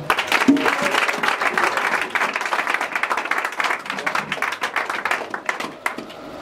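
Congregation at a Friday church service in Divo, Côte d'Ivoire, clapping and applauding together, a steady, fairly loud patter of many hands that carries on throughout.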